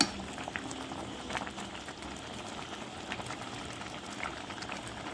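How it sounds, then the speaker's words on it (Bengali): Rice and lentils for khichuri bubble and boil in a covered rice cooker, a soft steady simmering patter with irregular small pops, close and quiet, with no talking. "আমার রাইস কুকারের চাল ডাল এভাবে ফুটে উঠছে।"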